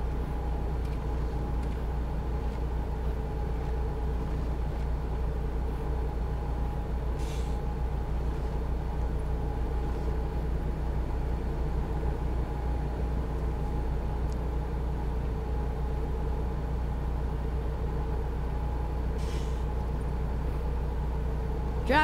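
Big truck driving with a constant droning engine hum and steady low rumble heard from inside the cab, with faint clicks and rattles scattered over the long run.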